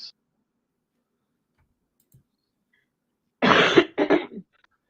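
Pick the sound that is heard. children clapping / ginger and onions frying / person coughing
person coughing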